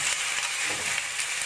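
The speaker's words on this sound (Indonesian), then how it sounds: "Setelah sayurnya agak layu, langsung kita masukin baksonya." Steady close sizzle and stir-fry hiss of meatballs going into a pan of wilted capcay vegetables, a continuous dense frying crackle throughout with no talk.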